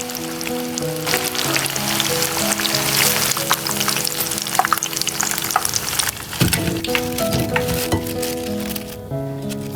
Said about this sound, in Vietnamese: chiên cho tới khi miếng bí lên màu vàng đậm như vậy là được rồi